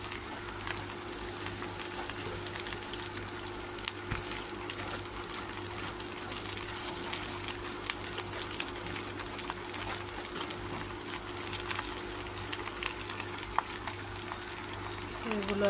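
Drumstick leaves frying in a pan, a soft continuous sizzle with faint stirring scrapes, quiet and steady, with a low hum beneath and no voices.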